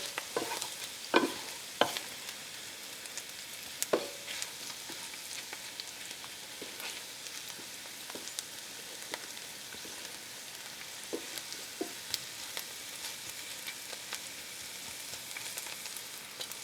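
Kale stew with sugar caramelizing in a pot gives off a faint, steady sizzle, broken by a few clicks and scrapes of stirring early on. No one speaks.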